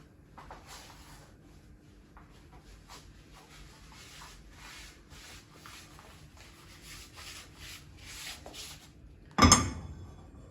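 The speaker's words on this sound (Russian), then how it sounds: "Теперь протрем нашу сковороду" Soft repeated rubbing strokes of a cloth wiping a frying pan, fairly quiet, ending with one sharp, loud clunk.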